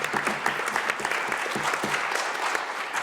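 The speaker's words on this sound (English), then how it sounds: "I think we can all applaud this" An audience breaks into steady applause after a talk on technology and artificial intelligence, dense clapping heard fairly clearly with little else over it.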